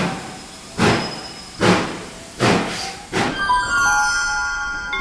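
A train standing at a railway station platform, with four loud hissing bursts like brakes or doors venting air, followed by a faint, steady whine and tonal hum from the idling train.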